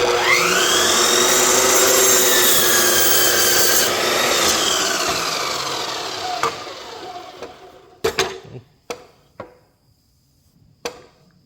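A piece of wood being cut by hand saw for the corner of a deer blind, a steady rasping stroke for about seven seconds that fades, followed by several sharp knocks and taps close by.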